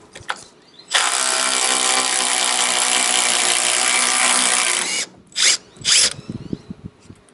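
A power socket tool spins a bolt head with a washer off a steel trawler hull in one loud, steady four-second whir, followed by two short bursts and a few light metallic clicks.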